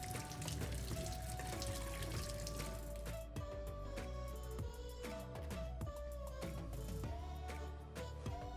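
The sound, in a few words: washing eggs under running water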